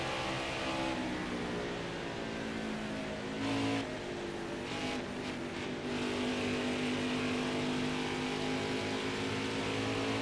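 Race car engine in NASCAR Heat 5 at Phoenix, a steady sustained drone with harmonic whine, staying loud and continuous throughout with a brief surge midway, no talk over it.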